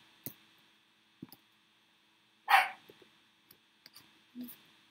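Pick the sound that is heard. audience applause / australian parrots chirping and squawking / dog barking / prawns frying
dog barking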